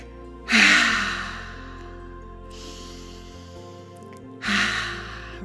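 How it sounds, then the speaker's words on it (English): Two deep breaths drawn in and let out, each a broad airy rush of air, the first near the start and the second close to the end, with a low steady hum underneath and no talking. "Take 3 deep cleansing breaths in."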